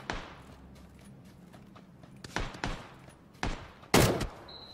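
Scattered gunshots in PUBG, a few sharp cracks spaced irregularly and growing louder, the last one close and loud.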